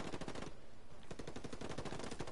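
Sustained rapid automatic gunfire in the video game Ghost Recon rattles loudly and continuously, with a brief lull before the bursts resume.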